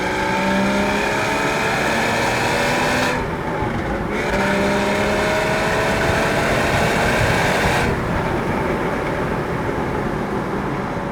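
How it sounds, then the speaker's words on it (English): A Porsche Boxster 981 S in sports mode sends out a loud, continuous exhaust drone with rising and falling engine tones, two brief dips in the higher pitches suggesting gear changes or lifts off the throttle, heard up close throughout. "press that sports button, and hear the exhaust"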